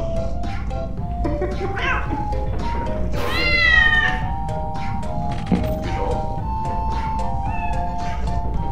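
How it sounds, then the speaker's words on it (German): Maxwell the cat meows in the video game Lethal Company, a strained, wavering meow standing out near the middle over a busy bed of game noise and background voices, with a few more faint mewing calls later. "Diese scheiß Maxwell-Katze."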